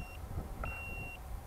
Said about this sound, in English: That should be the return to home. That beep, beep, beep.